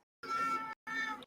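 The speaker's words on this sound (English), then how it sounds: "that's a cat. That's an adorable kitty." A cat meows twice in close succession, each call drawn out for about half a second with a short gap between, loud and near with no other sound.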